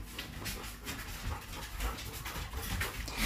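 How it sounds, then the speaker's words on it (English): Puppies pant and snuffle indoors on a hot day, giving soft, uneven breathy bursts that come and go close by, with occasional faint whimpers. "I do have the puppies out today."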